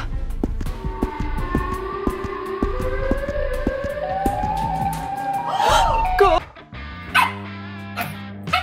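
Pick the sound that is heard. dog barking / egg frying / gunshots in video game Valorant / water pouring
dog barking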